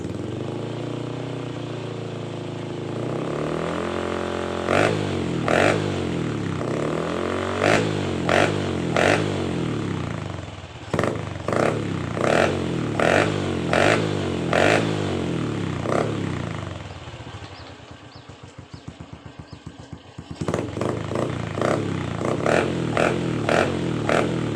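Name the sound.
motorcycle revving with new blade exhaust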